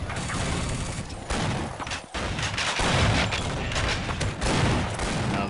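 Video-game battle gunfire in a capture-the-flag match, a steady loud fusillade of shots and booms throughout, with a short dip in the middle before firing resumes just as densely.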